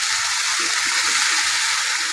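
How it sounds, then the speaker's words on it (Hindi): Water poured into a pan of frying spice masala with black pepper, coriander, turmeric, chillies and cumin, giving a steady, loud sizzling hiss that holds unbroken throughout at close range. "थोड़ा सा इसमें पानी डालते हैं।"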